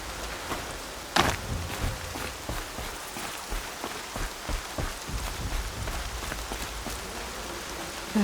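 Rain falls in the video game Horizon Zero Dawn as a soft, steady patter of drops on surfaces, with scattered sharper ticks and one louder knock near the start, and no talking.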